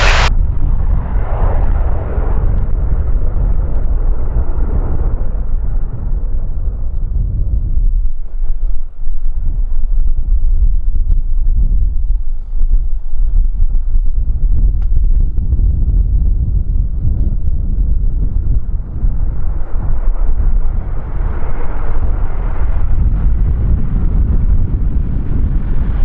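An Embraer jet begins its takeoff roll on runway 34 at Kagoshima Airport, a loud, sustained engine roar swelling and easing over nearly half a minute, heavily buffeted by strong headwind noise on the microphone.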